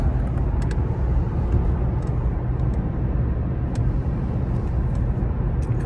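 A 2002 Jaguar XJR100 driving on the road, its engine and road rumble a steady, close, low drone throughout with faint tyre and wind noise above.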